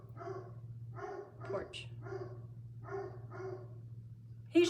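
A dog barks outside in a steady series of about six sharp barks, moderately distant, over a low hum, with a brief spoken word near the end.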